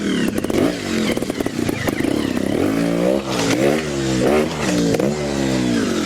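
A Sherco STF 2025 trials motorcycle ridden over rocky sections, its engine revving and rising and falling in pitch with repeated throttle blips, loud and close for the whole stretch, with some clattering.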